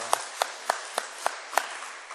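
During a Sunday church service, sharp claps ring out in an even, steady rhythm, about seven in quick succession, clear and moderately close with nothing else heard.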